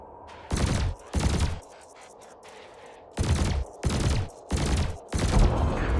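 Spaceship weapons in Elite Dangerous fire in six loud bursts: two quick ones, a pause of about a second and a half, then four more in steady succession, each a harsh crackling blast.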